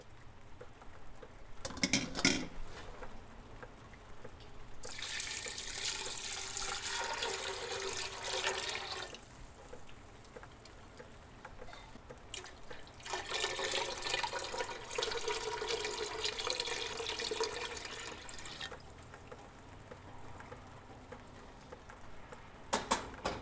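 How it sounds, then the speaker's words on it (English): Water runs from a tap into a large pot of chickpeas in a kitchen, two long pouring bursts with splashing patter, separated by quieter gaps and brief clunks, with no talking. "add your chickpeas to a large pot and cover them with water"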